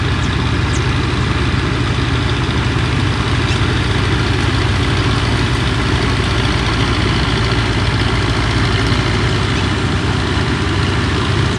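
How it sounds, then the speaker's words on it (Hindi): A threshing machine in a field runs continuously, producing straw that is piped into a trolley behind it, giving a loud, steady mechanical drone and rattle throughout. "ये दरमियान में जो मशीन लगी है घूमती है, और जो भूसा बनता है ना वो पीछे ट्राली लगी हुई है"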